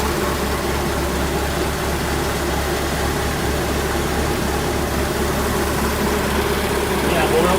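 An engine idles steadily after starting, a continuous low rumble with constant loudness throughout, close and alone.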